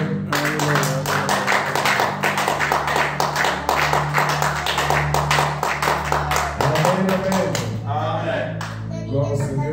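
A church congregation claps together in steady rhythm, loud and close, with voices and singing running through the clapping the whole way.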